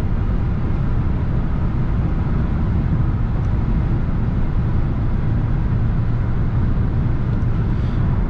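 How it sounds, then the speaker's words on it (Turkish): Steady wind and road roar inside a Volkswagen Passat driving at night on a narrow single-lane village road, a constant low rumble with broadband hiss and no voices. "Rüzgar sesini az çok duyuyorsunuzdur"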